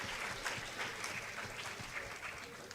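Quiet, distant applause from an audience at an entrepreneurship festival pitching session, a soft continuous patter of clapping lasting a few seconds.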